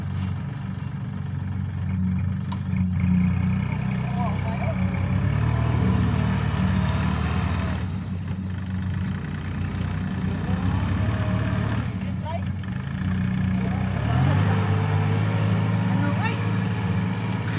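A large tractor engine runs steadily during a rice harvest, a loud continuous low rumble close by with shifting revs, while people talk over it outdoors.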